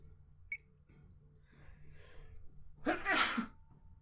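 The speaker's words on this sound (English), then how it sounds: "That sneeze hit me hard there." A single sharp sneeze bursts out near the end after a few quiet moments with faint murmuring and a small click.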